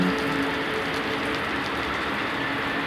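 Steady heavy rain pours down in a constant dense hiss, unbroken throughout and without voices.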